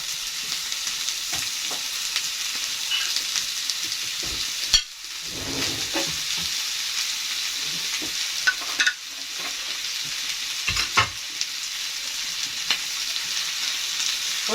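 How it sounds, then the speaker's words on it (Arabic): Sweetbreads fry with garlic in a pan, giving a constant crackling sizzle with occasional sharp pops and clinks of a utensil stirring, steady and close throughout. "اهو مع الثوم، هنحمر كده برضو نديله تشويحه"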